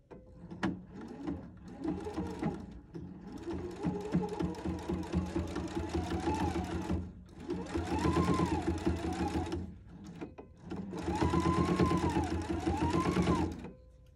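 A sewing machine stitches a dress in three long, steady whirring runs, each broken by short pauses, heard up close and alone.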